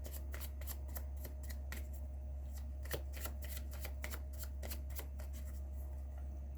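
A deck of cards is shuffled and cut close up, a quick series of crisp riffling snaps and flicks, steady and fairly quiet over a low background hum.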